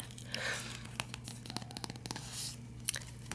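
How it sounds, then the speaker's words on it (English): Paper pages of a children's picture book being turned, a series of soft, close crinkling and papery swishes with a few sharper flicks, quiet and intimate with no voice. "I also love the sound of pages turning."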